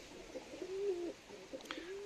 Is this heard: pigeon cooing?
yes